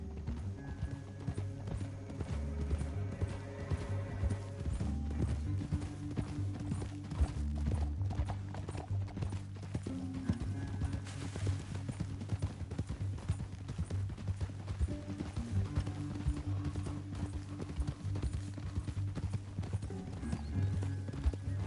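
Horse hooves clip-clop in a steady walking rhythm throughout in the video game Red Dead Redemption 2, close and even, over a low sustained musical hum with occasional faint creaks.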